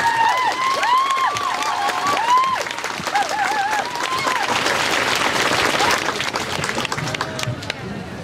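A large crowd at a pro-choice, anti-racism rally claps and cheers loudly and continuously, with whistles and shouts rising through the applause.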